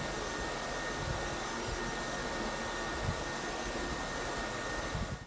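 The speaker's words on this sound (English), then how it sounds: "You will hear this vacuum when it's vacuuming." A SwitchBot K10+ Pro Combo cordless stick vacuum cleaner whirs continuously at a steady pitch, a broad airy hiss running close and unbroken throughout.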